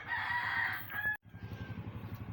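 A rooster crows loudly in one long drawn-out call, followed by steady clucking of chickens nearby in Davao, Philippines.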